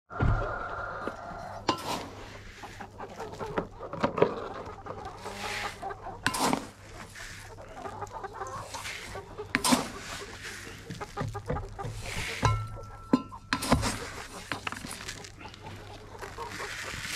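Lohmann Sandy chickens cluck softly and intermittently after feeding, with occasional sharp knocks and clatters, all fairly quiet against a steady low hum.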